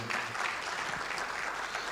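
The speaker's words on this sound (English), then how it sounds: "So a round of applause for him." An audience at a live national dialogue event on health in Ghana gives steady, full applause that holds evenly at a strong level from start to finish, without speech over it.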